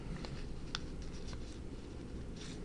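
A pencil marks short lengths on paper while plotting 3D vectors, giving faint, brief scratching strokes at a few scattered moments over a quiet background.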